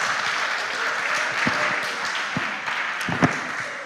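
Audience clapping for a junior high school quiz team rolls on steadily at moderate volume through the whole stretch, a few sharper individual claps standing out near the end.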